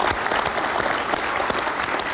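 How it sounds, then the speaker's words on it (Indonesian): Studio audience applause on an Indonesian TV talk show, a dense, steady wash of clapping filling the whole stretch at an even, fairly loud level with no voices over it. "sekali lagi untuk pasangan Amin, kita berikan tepuk tangan."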